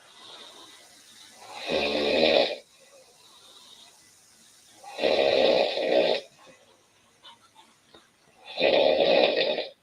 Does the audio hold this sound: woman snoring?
yes